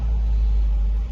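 A Range Rover SVR engine rumbles close by, a steady, heavy low drone held at an even level for about a second before dipping slightly.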